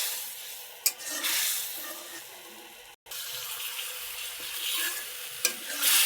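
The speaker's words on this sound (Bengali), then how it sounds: "কড়াই চাপিয়ে দিলাম, দিলাম মাছ আর পেঁয়াজ, দিলাম এক ফোঁটা তেল।" Fish and onion with a drop of oil frying in a wok make a continuous, bright, crackling sizzle with a couple of sharp stirring knocks, close and steady.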